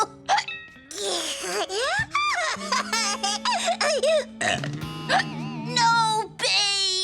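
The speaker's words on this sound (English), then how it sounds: "I've got to stop these hiccups!" Cartoon hiccups in a children's animated episode, short sharp vocal hics scattered among giggly laughter and animated character voices, loud and close over a sustained background tone.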